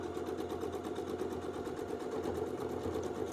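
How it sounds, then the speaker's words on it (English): Domestic sewing machine stitching a quilt seam during edge-to-edge sampler quilting, a steady fast rhythmic whirring hum that runs close and unbroken throughout with no talk. "We'll stitch up and then we'll stitch down."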